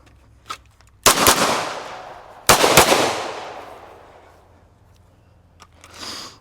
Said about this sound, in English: as I'm shooting and as I'm engaging, I'm trying to create even more distance while backing up